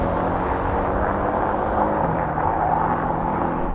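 Several performance cars, an Audi RS6, BMW M5, AMG E63 and Porsche Panamera, roar in a steady, dense engine drone during a drag race, heard from a following car with no break in the loud rumble.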